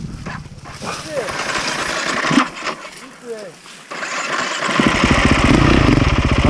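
A motorcycle engine runs and revs at close range, rising to a steady rumbling idle, with people talking over it.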